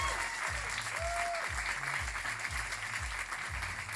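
Steady, dense applause from an awards-show audience for the host, filling the room evenly throughout with a low rhythmic thumping pulse underneath and no voices standing out.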